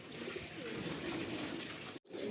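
Madrasi pigeons in a breeding loft holding around 35 birds in pairs produce a faint, continuous low cooing murmur over steady background hiss, with a brief dropout near the end.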